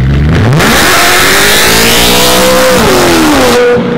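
A wide-body BMW M3 engine revs hard nearby, a very loud rising roar that climbs in pitch, holds at high revs, then drops back as the throttle eases.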